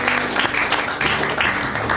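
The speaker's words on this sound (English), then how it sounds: "Give her another round of applause." Audience applause at a book launch, close, dense clapping from many hands, steady and loud for two seconds with no talk.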